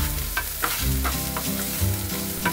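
Mushrooms and onions with thyme, parsley, salt and pepper sauté in a pan while being mixed, steady sizzling broken by several quick scraping stir strokes, close and moderately loud, no voices.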